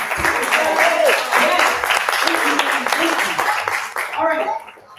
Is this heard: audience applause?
yes